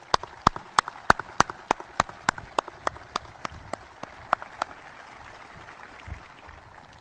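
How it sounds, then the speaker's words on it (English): At a Marine Corps commandant change-of-office ceremony, sharp, evenly spaced claps ring out in a steady rhythm, fairly crisp and close, slowing and softening until they stop after about five seconds, leaving quiet room noise. "Let's give them another round of applause."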